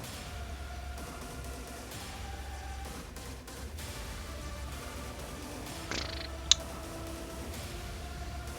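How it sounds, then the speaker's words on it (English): A cat sleeps on shreds of paper, purring steadily and softly for several seconds, with a faint rustle and one sharp click near the end. "My cat is sleeping on my shreds of paper."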